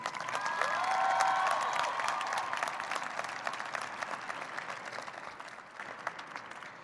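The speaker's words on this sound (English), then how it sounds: "Please give him a round of applause." Crowd applause at a 2014 high school graduation ceremony swells early, then gradually fades, with scattered faint cheers mixed in.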